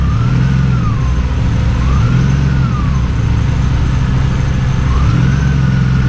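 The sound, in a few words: BMW E36 engine with ITBs idling after throttle plate adjustment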